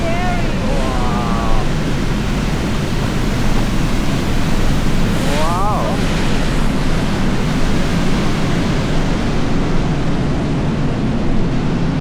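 A powerful waterfall in Ubud, Bali roars as a loud, continuous broadband wash of water noise close by, with brief faint voice sounds partly buried in the rush.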